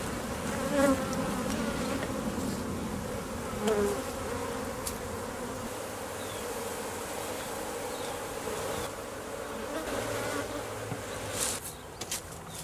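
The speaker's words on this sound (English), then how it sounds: "Here we have a newly worked out comb, and the bees are packing the pollen into these cells here." Honey bees buzz steadily over a newly built comb while packing pollen into the cells, a dense, continuous hum of many insects close by, with a few louder passes from individual bees and no voices.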